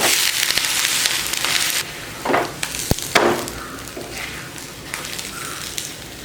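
A dal dosa sizzles on a hot pan as it is flipped, a steady frying hiss with a few short scraping and tapping sounds from the turn, close and fairly loud with no talking.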